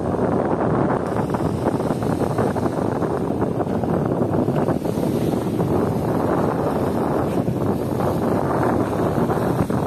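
Strong, relentless tropical storm wind roars and buffets the microphone throughout, a loud continuous blast with no letup, at Dolomite Beach.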